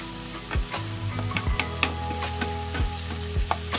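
Tomatoes frying in a pan for pork with bagoong alamang, a steady close sizzle broken by several sharp clicks and knocks from stirring.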